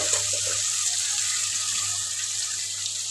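Water is poured into a simmering bottle gourd curry, a steady soft trickling and splashing that runs evenly for a few seconds, fairly close and alone.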